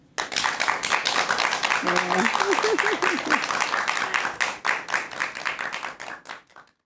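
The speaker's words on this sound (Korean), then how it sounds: "여러분 큰 박수 부탁드립니다." A large audience gives enthusiastic applause at a lecture on laughter, loud dense clapping that starts abruptly, holds strong, then thins out and fades near the end, with a brief spoken word partway through.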